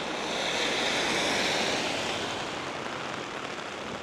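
Heavy monsoon rain pours down steadily in Innisfail, Australia, a dense, loud, continuous hiss of downpour close around with no voices.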